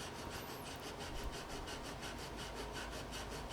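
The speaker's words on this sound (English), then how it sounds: "That helps with the resistance while sawing through the mortise or the dovetail." A waxed Japanese pull saw cuts through the neck joint of an Ibanez classical guitar, making steady, even rasping strokes in a continuous rhythm, close and fairly quiet, with no talking.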